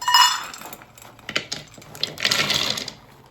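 Two cups of raw almonds pour into a measuring cup for homemade granola, giving two short bursts of clinking and rattling nuts, near and fairly loud.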